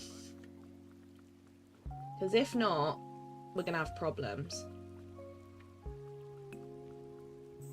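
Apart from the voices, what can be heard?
rain falling in Disney Dreamlight Valley video game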